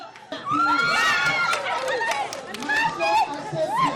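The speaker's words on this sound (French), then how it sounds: "Cris de joie par-ci," A crowd of students shouts and cheers with joy as baccalaureate exam results are announced at a high school in Burkina Faso, with excited overlapping voices and shrieks filling the scene loudly and continuously.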